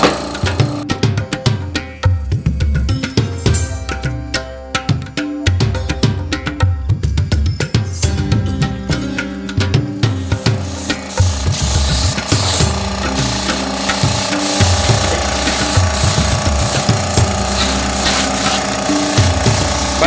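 A compressor-driven spray gun applies epoxy primer to fabricated steel grills. Irregular knocking and scraping rattles come first, then a steady loud hissing spray takes over through the second half, with no talking.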